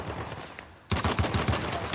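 Rapid automatic gunfire erupts in Uncharted: The Lost Legacy, a tight burst of about seven close, punchy shots following a brief lull of quieter background noise.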